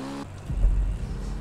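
Engine of the Manchez Scout motorcycle in GTA Online, a brief tonal whine giving way to a low, throaty, fairly loud rumble that pulses slightly as the bike is pushed harder, with no speech.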